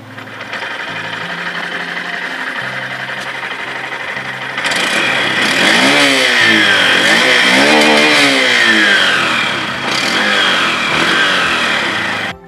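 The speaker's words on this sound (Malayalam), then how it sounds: "നമുക്ക് വണ്ടിയുടെ എക്സോസ്റ്റ് സൗണ്ട് ഒന്ന് കേൾക്കാം." A Honda Livo BS6 motorcycle's exhaust idles with a steady, low putter, then revs several times in rising and falling sweeps before settling again, close and loud with no talking.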